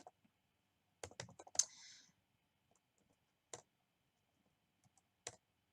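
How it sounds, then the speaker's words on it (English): Scattered clusters of keystrokes and clicks on a computer keyboard, close and crisp, separated by stretches of near silence. "I'm typing it now."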